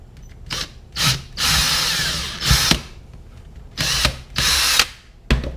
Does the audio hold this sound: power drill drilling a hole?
yes